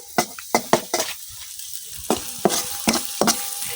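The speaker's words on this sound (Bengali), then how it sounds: "আমার পেঁয়াজ মরিচটা কিন্তু আমি লাল লাল করে বাজিয়ে নিছি" Sliced onion and green chili frying in a kadai, with soft sizzling broken by sharp scrapes and clinks of a spatula stirring against the pan, close and repeated.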